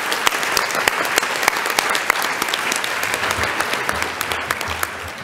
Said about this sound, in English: give them a round of applause for all that they do for the school